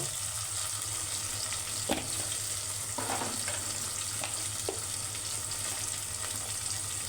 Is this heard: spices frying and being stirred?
yes